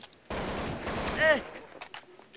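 A rapid burst of gunfire in Counter-Strike 1.6 rattles loudly for about a second, ending in a ringing shot with a couple of faint clicks afterward.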